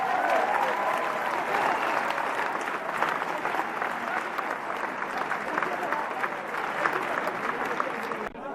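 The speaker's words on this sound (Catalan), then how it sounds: "Sisplau, un aplaudiment perquè el Lluís està fort." Crowd applause at Igualada's 2016 maypole festival, steady continuous clapping from many people outdoors, with voices mixed underneath throughout.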